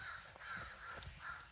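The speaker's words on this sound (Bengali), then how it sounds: "পাখির শব্দ শোনা যাচ্ছে" Crows caw repeatedly outdoors on a snowy day in Gaithersburg, Maryland, a few hoarse calls at a steady rhythm from a moderate distance.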